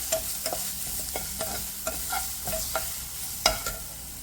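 Fennel seeds and garam masala stirred in a pan for rice, a spoon scraping in irregular strokes roughly every half second over a soft, steady sizzle, close and alone with no talk.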